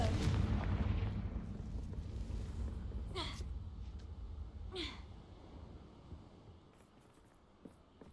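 A Confringo blasting spell from the Hogwarts video game erupts in a heavy, rumbling burst, followed by a couple of sharper cracking impacts and a fading low rumble that trails off near the end.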